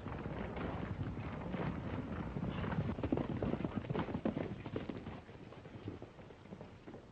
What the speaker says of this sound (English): There's his horse.